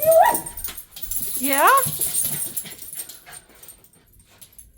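Dogs on a nighttime walk give high, rising whimpers and yips early on, close and fairly loud, while a person speaks briefly nearby.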